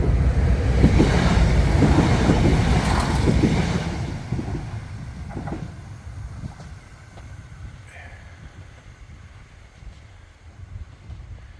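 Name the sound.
train arriving at station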